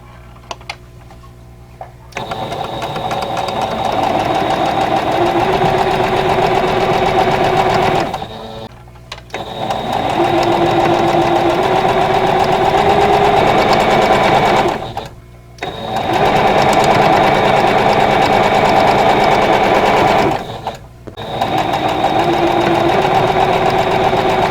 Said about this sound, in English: I'm going to chain piece these together.